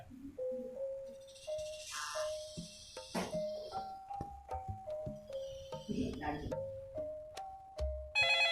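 A phone rings in a repeating electronic melody of short tonal notes, close by, with people talking intermittently over it.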